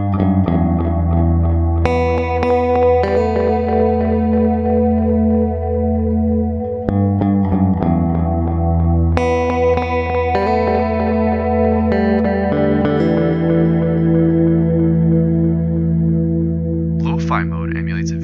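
Electric guitar played through a delay pedal set to tape mode, with sustained chords and notes trailing into warm, wobbling repeats, loud and continuous, ending in a brief high squeal.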